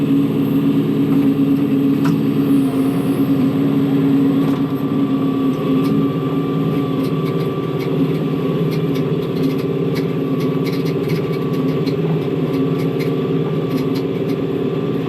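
A John Deere tractor engine holds a steady, loud drone at about 2100 RPM while pulling a 9-chain chisel plow across a field at 3.5 mph on a late-summer evening. The hum runs unbroken throughout, with no talk.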